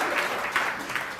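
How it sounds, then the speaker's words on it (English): A business forum audience at a Kenya panel on food security gives a short round of applause for a panelist, an even wash of clapping at moderate volume. "Can we get all of applause for Thule?"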